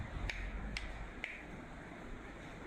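Three sharp, quiet claps from a small group of children in a classroom, evenly spaced about half a second apart over a faint background hiss.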